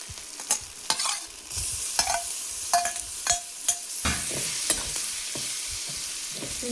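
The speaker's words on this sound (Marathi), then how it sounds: "त्याच्यात मी कांदा टोमॅटो आणि आलं लसूण पेस्ट टाकली आता कोळंबी टाकून घेते" Prawns frying in black masala with onion, tomato and ginger-garlic paste, a loud close sizzle broken by repeated scraping and clattering strokes of a spoon against the pan, with no talk.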